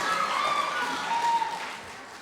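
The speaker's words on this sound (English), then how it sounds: "Round of applause" Crowd applause in a high school auditorium during a variety show, a dense, steady wash of clapping that stays even, then gradually fades, with a faint tone lingering underneath.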